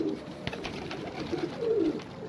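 Iraqi tumbler pigeons coo softly nearby, low rolling calls repeating against a quiet background with a faint tap.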